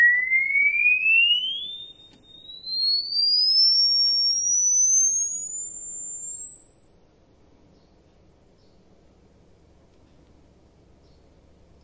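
A pure sine test tone climbs steadily from high to very high pitch, one smooth unbroken sweep sounding alone and fairly loud against faint background hiss.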